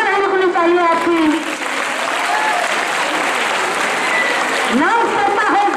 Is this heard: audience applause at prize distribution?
yes